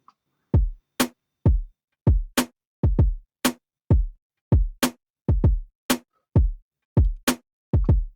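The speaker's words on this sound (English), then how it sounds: "The kick and the snare now sounds like this together." A steady programmed drum beat: deep booming kick hits with decaying low tails alternating with crisp snare cracks, loud and close.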